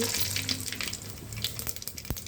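Mustard seeds sputter and crackle in hot oil in a pan while a Tamil stingray fish curry is started, a continuous fizzing sizzle with sharp little pops scattered throughout, close and steady.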